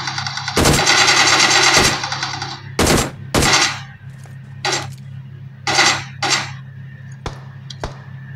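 Gunfire from a zombie-mode shooter video game: a sustained automatic burst, then a series of short sharp volleys and single clattering shots, loud and close, with no talk.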